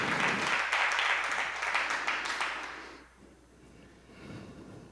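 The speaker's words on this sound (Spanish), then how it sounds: "denle un aplauso al Señor, porque Él se lo merece" A church congregation applauds the Lord in dense, sustained clapping that swells for about three seconds before dying away into a softer murmur of the room.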